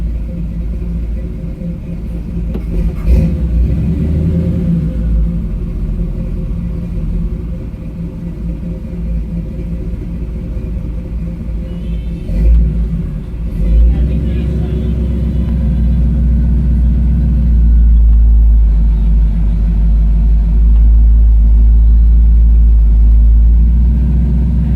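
A 1968 Camaro RS with updated drivetrain and automatic transmission rumbles along on a test drive, its engine a deep steady drone with a few brief surges, growing heavier and louder toward the end from inside the car.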